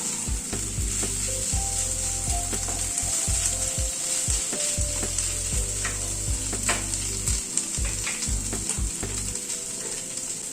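Mashed boiled potatoes fry in a pan for cheesy bread bites, giving off a loud, continuous close sizzle with a repeated low scraping and thumping as the mixture is stirred.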